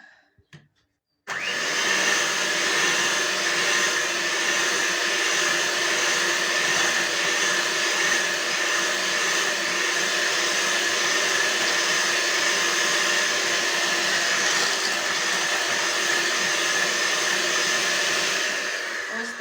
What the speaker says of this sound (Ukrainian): Висипаємо і розмішую міксером.